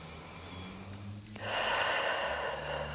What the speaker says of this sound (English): Breathing deeply, feeling your body